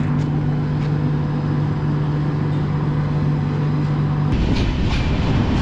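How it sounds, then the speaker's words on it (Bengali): A Dooars tourist special train with a Vistadome coach pulls out of Madarihat station, a loud steady rumble with a sustained droning tone that cuts off near the end into rattling wheel noise. "সঠিক সময় ট্রেন ছেড়ে দিল মাদারিহাট স্টেশন থেকে"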